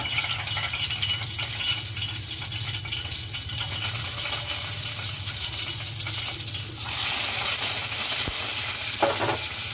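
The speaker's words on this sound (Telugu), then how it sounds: "2 టేబుల్ స్పూన్ అయితే ఆయిల్ అయితే వేసేసుకుంటున్నానండి. దీనిలో ముందుగా సన్న చాప్ చేసి పెట్టుకున్న ఎల్లిపాయలు" Finely chopped onions fry in about two tablespoons of oil for veg fried rice, giving a steady close sizzle that grows brighter and louder near the end, with a brief clink of utensils and no voices.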